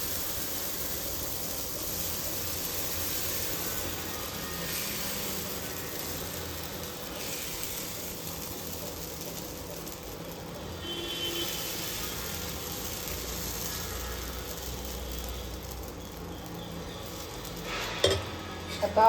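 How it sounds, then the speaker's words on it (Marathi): Faint, steady sizzle on a hot dosa pan as water is sprinkled over it and batter is poured, with soft stirring and scraping sounds throughout and a few sharper clinks near the end. "आता हे जे पाणी आपण जे घेतलंय ते ह्याच्यावरती आपल्याला असं शिंपडायचं आहे आणि जे आपलं बॅटर आहे ते टाकून याचे आपल्याला डोसे बनवून घ्यायचे आहे"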